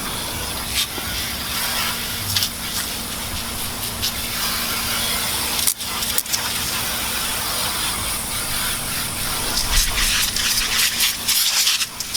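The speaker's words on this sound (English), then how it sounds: "just let the sandpaper do the work for you" Sandpaper rubbed by hand across a yellowed, hazy plastic car headlight during restoration, giving a steady, close, continuous scratchy hiss with slight variations in stroke and no talk.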